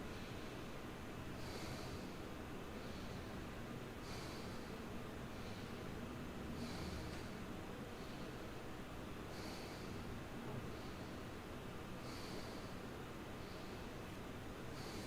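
Slow, deep breaths during yoga practice, soft airy inhales and exhales repeating about every two to three seconds, close and quiet over a faint hiss.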